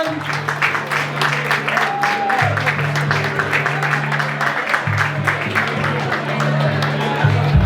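Crowd applause at a Diwali ball felicitation ceremony, dense steady clapping from many hands throughout, loud and close, over a low humming tone from the venue sound system.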